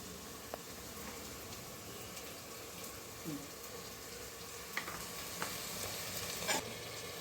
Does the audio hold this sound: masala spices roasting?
yes